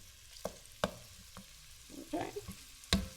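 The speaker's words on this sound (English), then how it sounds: "So while my sausage is browning" Sausage browning in a pan: a quiet, low sizzle punctuated by several sharp taps and scrapes of a spatula, a burst of busier stirring near the end and no one talking.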